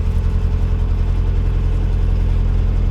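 A car engine runs steadily at about 1300 RPM, a loud, close, low droning hum with a constant vibrating rumble and no voices.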